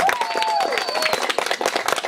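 Guests at a 2011 wedding in Obolon clap for the only girl in a dance contest, with brisk, uneven applause and a few whoops and voices rising over it.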